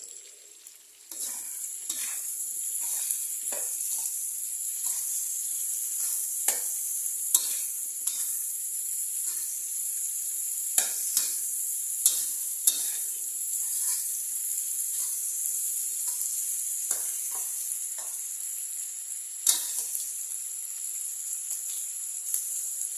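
Eggplant and minced pork stir-fry in a hot pan, with a steady loud sizzle throughout and repeated scraping stirs of the spatula.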